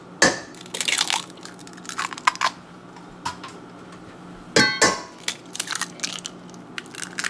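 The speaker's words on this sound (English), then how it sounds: "And we're going to crack in 2 eggs." Two eggs cracked into a salmon cake mixture, each with a sharp crunch of shell, then sticky squelching and light clicks as the eggs and mixture are worked, close and moderately loud.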